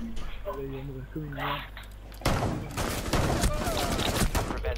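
Rapid gunfire erupts in a PS4 shooter game during a fight over a biohazard container, dense crackling bursts following a stretch of in-game voices and tones, with a player talking over the action.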